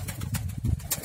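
Soft, low pigeon cooing repeats in a steady throaty rhythm, close by, with faint rustling in the background.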